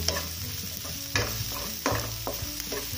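Garlic frying to golden brown in oil in a white cooking pan, sizzling close by under brisk scraping strokes of a utensil, several sharp stirring clatters over about three seconds, no talking.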